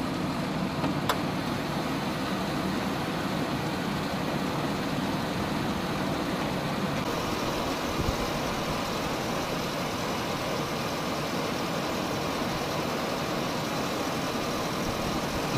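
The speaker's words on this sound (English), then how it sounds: "Start the vehicle and engage the AC." A car engine idles steadily with the air conditioning running, a constant low hum and whir that stays even throughout with no voices.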